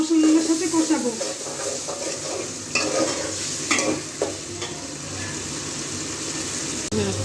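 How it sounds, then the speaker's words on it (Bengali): Shrimp sizzle in a pan while being stir-fried with spices, a steady hiss broken by scraping stirs and occasional clatters of the utensil, close and fairly loud. "চিংড়ি মাছ দিয়ে 5 মিনিট মশলার সাথে কষাবো।"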